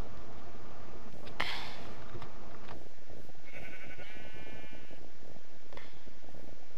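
In a modded survival video game, a sheep lets out a wavering bleat partway through, set against busy game noise and a sharp burst of sound early on.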